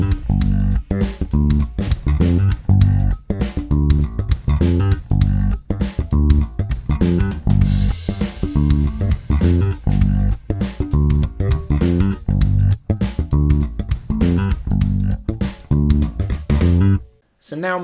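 A bass guitar plays a repeating one-bar sixteenth-note groove, tight punchy low notes cycling steadily for most of the passage before stopping near the end.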